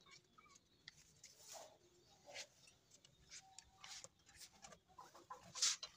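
Quiet, scattered clucks and soft squawks from chickens nearby, irregular and faint, with one sharper call near the end.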